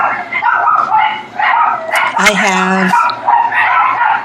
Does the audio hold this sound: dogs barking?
yes